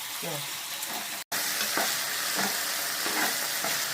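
Holy basil stir-fried with pork in a hot pan for Thai pad krapow: loud, continuous close sizzling with repeated scraping stirs, broken by one brief gap of silence.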